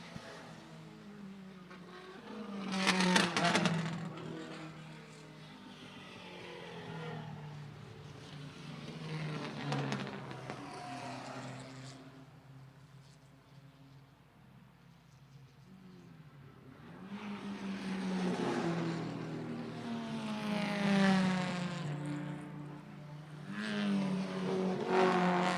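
A Mini Cooper and a Porsche 912 race at Lime Rock Park. Their engines roar as the cars pass by in waves, fading to a distant drone in the middle and swelling again toward the end.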